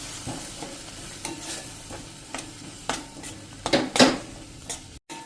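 Green chillies with masala cooking in a pan over a slow flame, a steady low sizzle broken by several louder scraping stirs of a spoon against the pan, close and with no voices.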